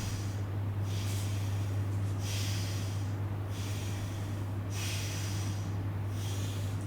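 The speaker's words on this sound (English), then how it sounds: "Breathe in, breathe out" Slow, deliberate breaths during a yoga class for back pain: about four long hissing inhale and exhale cycles, close and clear, over a steady low electrical hum.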